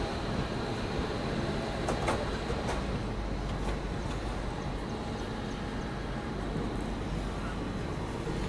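Steady rumble and rattle of a Prayagraj special passenger train running alongside and overtaking another train on arrival near Mathura, a continuous rolling noise with faint clicks and a few brief higher squeals.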